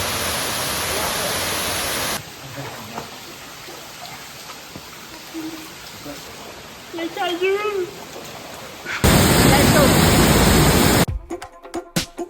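An Indonesian waterfall roars as a broad, loud wash of rushing water in short bursts, broken by quieter stretches with faint voices and chirps.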